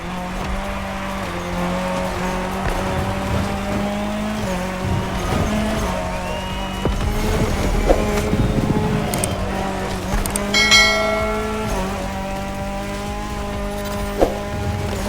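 Race car driving in The Crew Motorfest video game, engine revving up and down through gear changes with repeated tire squeals and skids through corners, loud and continuous.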